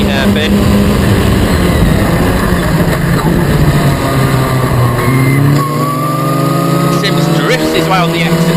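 Historic Formula Ford race cars drive at Snetterton, their engines droning loud and steady with rising and falling pitch as they pass through the corners; a commentator talks over the engine noise.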